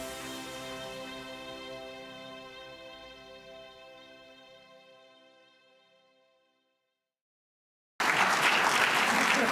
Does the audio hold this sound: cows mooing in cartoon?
no